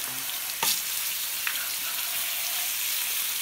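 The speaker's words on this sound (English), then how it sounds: "Then drop that in the oil. Sear it real quick." Filet mignon sears in hot oil with a steady, close sizzle filling the pan, a sharp crackle as the meat drops in near the start, then an even hiss with small pops.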